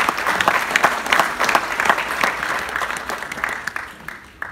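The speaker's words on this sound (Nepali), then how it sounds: "त्यस कारण उहाँको लागि जोरदार ताली बजाउँछु" A live stage comedy audience gives loud, sustained applause for the Nepali cricket team: a dense wash of many hands clapping, close and full, gradually thinning toward the end.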